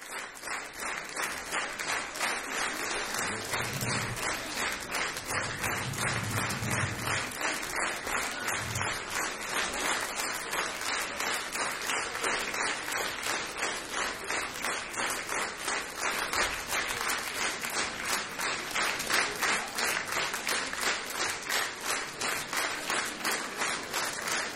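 A theater audience gives a long, loud, even ovation of steady applause after a Spartacus performance by the Royal Lviv Ballet. The clapping is dense and rhythmic with no letup, and a few brief low voices come through early on.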